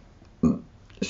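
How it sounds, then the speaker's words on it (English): Two short, low burps from a person sound close by in a quiet room, the first louder and longer than the second. "More burps."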